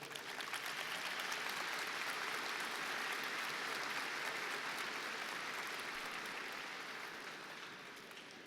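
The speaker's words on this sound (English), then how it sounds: "Seniors, with your applause, please thank all of those who are here with us today." A high school graduation audience applauds with a dense, even roar of clapping, sustained throughout and easing off slightly toward the end.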